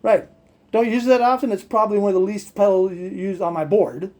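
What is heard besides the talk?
No everyday noise stands out behind the speech.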